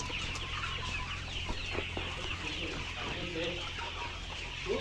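A large flock of layer hens on a poultry farm clucks and chatters continuously for several seconds, moderately close and steady, with scattered individual calls standing out from the crowd.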